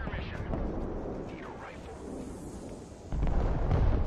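Artillery fire in the multiplayer war game Broken Arrow: a few distant booming blasts and rumbles, the last heavier impact near the end, mixed under game noise with no voices.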